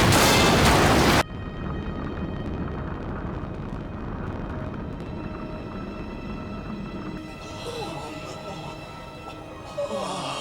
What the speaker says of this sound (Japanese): これが爆弾の爆発？